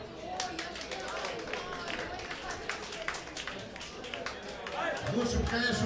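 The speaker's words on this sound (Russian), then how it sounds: "бурные аплодисменты." An audience applauding at a brass band concert, a steady crowd of clapping hands that keeps up throughout, with a voice talking over it and a swell of music near the end.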